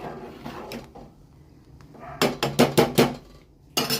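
A ladle stirs boiling masala peanut saaru in a metal pot, giving soft scrapes and then a quick run of five sharp metallic knocks against the rim, with another knock near the end. No one speaks.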